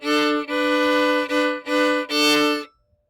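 Violin plays the opening two measures of Sword Dance, a short run of bowed, double-stop notes with brief breaks between strokes, clear and close, ending after about two and a half seconds.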